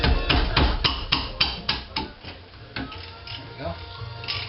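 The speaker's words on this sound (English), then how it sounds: "Just tapping on the ratchet lightly, just to break the nut or the bolt loose." Hammer tapping on a socket ratchet to break a nut or bolt loose during rear brake work on a Subaru Forester, a fast run of about ten close metallic knocks followed by a few scattered taps, with a voice talking over them.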